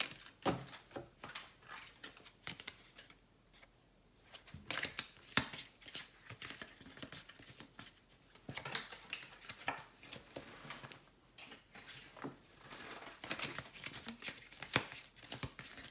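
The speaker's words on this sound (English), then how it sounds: "These cards are so hard to shuffle" Tarot cards being shuffled by hand, a stiff deck that keeps slipping, giving irregular bursts of riffling, tapping and slapping with short pauses, fairly close and soft, with no talk over it.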